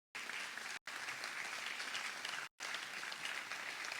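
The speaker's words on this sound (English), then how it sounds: "Please take a moment to give a round of applause to all the sponsors seen on the screen" A livestreamed event audience gives dense, continuous applause for the sponsors, a steady crackle of many hands broken by two brief cuts to silence.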